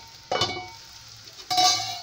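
Prawns cooking in a pan over a low flame for a dry jhinga dish, with two short bursts of stirring and scraping against a soft, steady sizzle, no talking.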